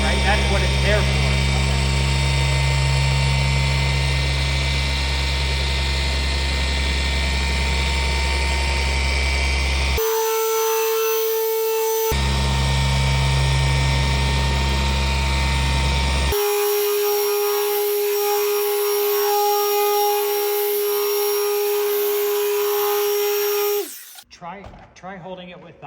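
A battery-powered sprayer whirs steadily while applying ceramic coating to a vehicle hood, a loud continuous motor tone that briefly drops and shifts pitch before cutting off, with people talking over it.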